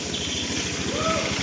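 A 2017 Honda Scoopy scooter idles close by with a smooth, even, fast-pulsing engine putter and a faint higher tone drifting over it, brief and steady.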